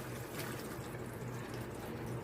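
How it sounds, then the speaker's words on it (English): Water poured off freshly washed raw chicken in a kitchen, a steady close splashing stream like a running tap, continuous and moderately quiet. "Just throw the water."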